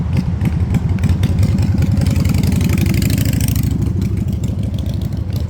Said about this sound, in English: we got a motorcycle coming by